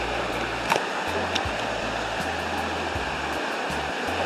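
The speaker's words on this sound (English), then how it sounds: "the river is a bit rough" Rough river water rushes downstream after weeks of rain. The roar is steady, broadband and close, with a faint low hum underneath.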